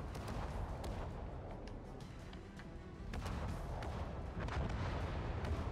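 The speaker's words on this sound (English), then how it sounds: "You can see the little secondaries already popping off in every direction." Warship secondary guns in the naval game World of Warships Legends fire in a dense, continuous rumble of overlapping booms and distant gunfire, steady and fairly faint throughout, with no voices.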